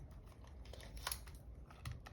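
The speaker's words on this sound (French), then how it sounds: "Ciseaux" Scissors picked up in a sewing setup for making a hidden-pocket scrunchie give a faint, brief snip and click against low room hiss, with no one talking.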